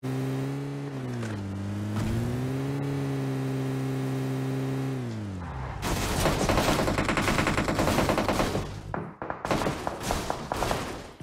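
Rapid bursts of Uzi submachine-gun fire in PUBG Mobile, crackling densely over a droning vehicle engine before breaking into choppy, stuttering volleys.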